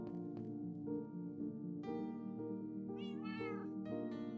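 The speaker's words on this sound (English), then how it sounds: "you guys can hear the cats" Cats meowing repeatedly in the background of a quiet room, drawn-out rising calls layered over steady music, moderately close and clearly audible.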